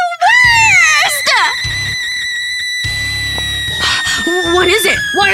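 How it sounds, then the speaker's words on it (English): A person lets out loud high screams and shrieking wails in repeated bursts, rising and falling in pitch and broken by short gaps. "Why are you screaming?"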